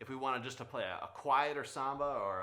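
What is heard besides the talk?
No everyday noise stands out behind the speech.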